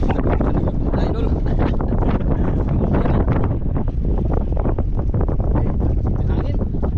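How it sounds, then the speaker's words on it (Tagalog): Strong wind at sea roars continuously across the microphone during squid fishing from a boat, loud and buffeting throughout, with a voice talking faintly underneath. "Hangin."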